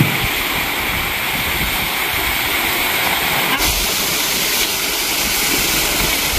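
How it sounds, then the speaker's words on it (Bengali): Fountain running in a resort swimming pool, a steady loud rush of falling and splashing water that fills the whole clip without pause. "একদম ফ্রেশ জল, দারুণ সুন্দর, ফোয়ারাও চালু হয়ে গেছে।"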